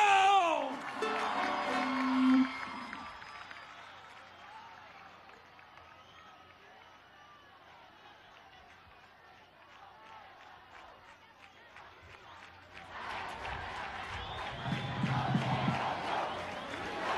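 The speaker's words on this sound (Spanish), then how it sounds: "recibamos con un fuerte aplauso al candidato de la esperanza, al pueblo presidente, Nicolás Maduro." A crowd at an outdoor campaign rally in Cumaná, Venezuela, cheers and claps in a burst at the start. The crowd then fades to a low murmur before the applause and shouting swell back up near the end.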